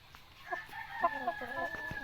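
A Brahma chicken rooster crows close by in a drawn-out, wavering call that rises and holds for about two seconds, with faint background noise and no voices.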